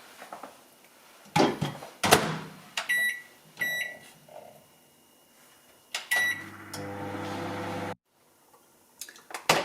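A microwave oven softening chopped onion for risotto: door clicks and thumps, a run of keypad beeps, then the low steady hum of the oven running for a few seconds before it stops abruptly, followed by more handling sounds.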